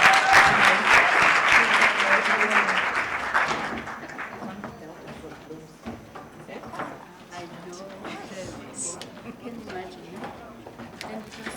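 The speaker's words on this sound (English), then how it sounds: "Big round of applause to our mentors." Loud applause from an audience at a women in media and communication speed mentoring event, fading after about four seconds into scattered clapping and murmuring crowd noise.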